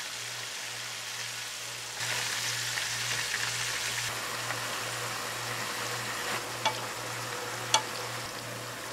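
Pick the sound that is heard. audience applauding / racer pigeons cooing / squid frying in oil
squid frying in oil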